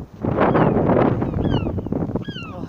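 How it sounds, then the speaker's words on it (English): Gusty wind buffets the microphone at the Deganwy seaside during crabbing, a steady low roar throughout, with sharp seagull cries rising over it in the second half. "Oh, it's getting windy."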